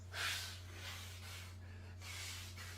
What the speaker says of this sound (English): Hang on, I'm blowing my nose.